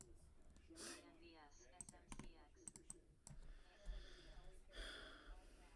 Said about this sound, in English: Sorry that I'm clicking on these a little too much. If you guys hear me clicking.